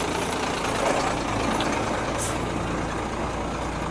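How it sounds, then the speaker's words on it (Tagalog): Big truck rumbling along a rough road, a steady low engine drone filling the scene at close range, with a brief hiss partway through. "Oh, diba? Sobrang laki ng truck."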